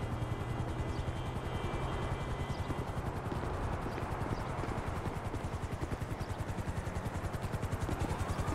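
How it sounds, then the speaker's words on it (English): A helicopter in Grand Theft Auto V thumps with a rapid, steady rotor chop that stays loud and close throughout, its engine drone running underneath. "A helicopter has been dispatched."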